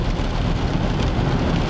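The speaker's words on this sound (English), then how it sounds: "it is pouring rain" Heavy rain pours down in Saskatoon, Saskatchewan in January, a loud, dense and unbroken roar of water with a deep low rumble underneath.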